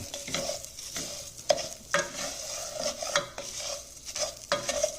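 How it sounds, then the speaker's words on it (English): Food sizzling in a hot pan while being constantly stirred, with repeated spatula scrapes and taps against the pan over a continuous close frying hiss; no talking. "But you gotta keep stirring."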